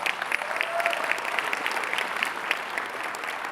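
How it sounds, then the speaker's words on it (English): A conference audience at IMPACT Live 2019 gives steady, even applause, many hands clapping together in a dense, sustained patter that neither builds nor fades. "Give him a big round of applause for being awesome."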